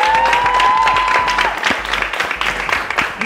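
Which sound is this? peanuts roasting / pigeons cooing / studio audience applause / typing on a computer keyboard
studio audience applause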